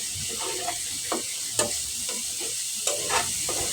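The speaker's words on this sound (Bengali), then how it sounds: "অল্প পানি দিয়ে মশলাগুলি নেড়ে চেড়ে ভালোভাবে কষিয়ে নিচ্ছি।" A steady sizzle of spices and fried bata fish cooking with a little water and cumin powder runs throughout while a utensil scrapes and stirs the pan in repeated strokes, with no one speaking.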